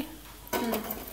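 A cooking pot set down on a stove lands with a single sharp metallic clunk and a short ringing clatter, after a stretch of quiet room noise.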